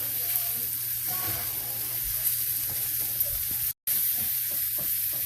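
Butter melting and sizzling in a hot pan alongside a ribeye steak gives a loud, steady frying hiss that holds nearly throughout, broken only by a moment of silence near the end.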